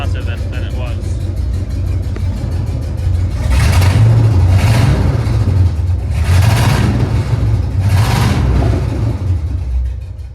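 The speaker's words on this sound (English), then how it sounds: "But you can tell it's got a hell of a misfire." A Chevrolet C3500HD truck engine with a bad misfire idles close by, a rough uneven low rumble that swells in a few revving bursts, with voices talking over it.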